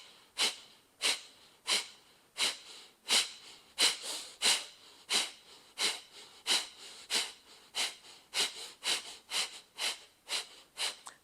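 Rapid, forceful nasal exhalations from a yoga breathing exercise, about twenty sharp regular puffs in quick succession, close and fairly quiet, with no talk.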